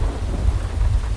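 Rain and thunder in a video game, a dense steady downpour hiss over a deep low rumble, loud and continuous with no voices.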